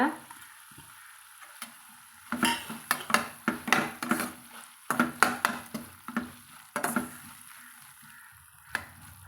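A spoon scrapes and clatters in a pan as chopped coriander and mint are stirred into sizzling tomato masala, irregular clusters of close metallic knocks over a faint frying hiss, with pauses between bursts.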